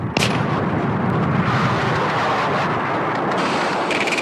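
A sustained roar of heavy anti-aircraft and tracer fire from an airfield and distant blasts rumbles continuously, loud and dense, with a sharp crack at the start.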